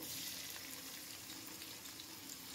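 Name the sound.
onions frying in a pan for chicken pulao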